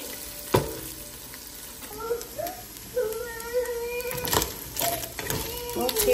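Pork frying in a pan before sautéing, a close sizzle with stirring scrapes and clatter, a sharp knock near the start and a voice murmuring faintly in the background.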